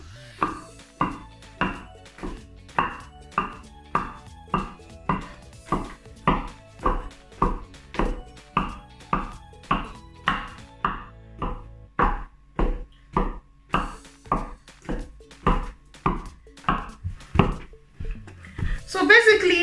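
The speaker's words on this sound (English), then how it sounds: "So basically, I'm pounding the yam, and I have to pound it until there's no lumps and the yam is smooth." A short wooden pestle pounds boiled yam in a mortar with steady, evenly spaced thuds, about two per second, close and loud, continuing without pause for the whole stretch.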